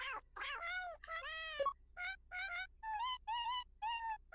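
A Nintendo Labo cardboard piano on the Switch plays synthesized cat meows as notes, a run of short, clear, pitched mews in a rough melody with small gaps between them.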